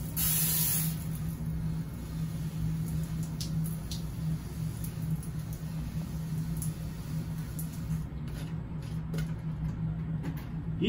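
Water sprayed generously over a car headlight reflector part before a coating is applied, a steady hissing spray held at an even level for the full length, close and alone with no talk.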